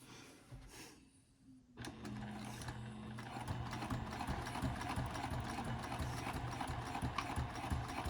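A sewing machine stitches the pocket of a wristlet clutch, starting after a short quiet gap and then running in a steady, close, rhythmic whir with fine needle ticks.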